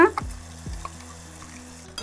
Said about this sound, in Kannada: ಈಗ ಇದ್ರಾಗ ಶೇಂಗಾ ರುಬ್ಕೊಂಡಿತ್ತಿರಲ್ಲ ಅದ್ರದ ಪೇಸ್ಟ್ ಹಾಕ್ಕೊಳ್ಳೋನು ಒಗ್ಗರ್ಣಿದಾಗ